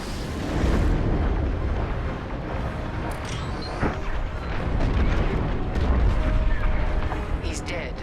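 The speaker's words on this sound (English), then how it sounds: "The frigate is about to explode." Frigate explosion in the Star Wars Squadrons space combat game: a sustained, loud, rumbling blast with dense low roar and scattered crackling debris bursts running through the whole stretch, no voices.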